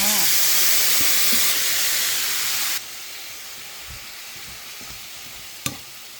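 Vegetables and shrimp are stir-fried in a pan on an electric stove, giving a loud, steady sizzle and hiss that drops sharply partway through, with soft stirring scrapes and one sharp clink near the end.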